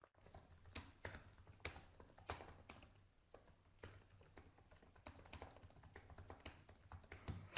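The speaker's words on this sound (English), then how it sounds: "I'm typing it out so that you can really see that." Rapid typing on a computer keyboard, a close, quiet stream of uneven key clicks and taps with brief pauses, no talking.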